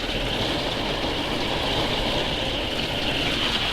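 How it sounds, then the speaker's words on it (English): Constant loud roar of a train passing nearby, a broad, steady rumble that holds level from start to finish with no talk over it, heard from a spot outdoors in the rain. "the noise you can hear in the background is a train going past"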